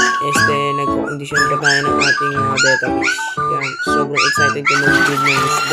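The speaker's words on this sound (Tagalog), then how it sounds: "Kung mapapansin yung ingay ng aso natin dyan" A pet dog whimpers and yips in high, wavering cries, interleaved with a person talking steadily throughout.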